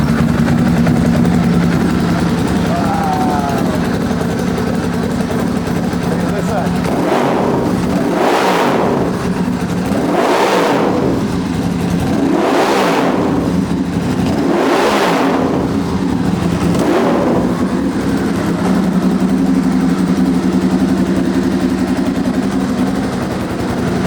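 A custom 2008 Ducati Monster S2R 1000 motorcycle engine idles close by, then revs hard about five times in a steady rhythm before settling back to a loud idle, with no talking.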